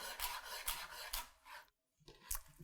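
Big kitchen knife thinly slicing kale on a cutting board, a run of quick crisp rasping cuts in steady rhythm, a brief pause, then one more cut, close and fairly quiet.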